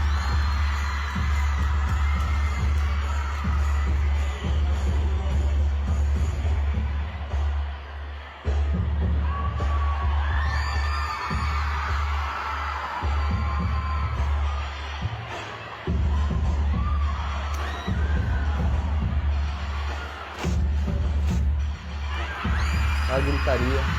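A crowd at a religious church gathering shouts and cries out continuously over a heavy low hum, loud and sustained with surging peaks.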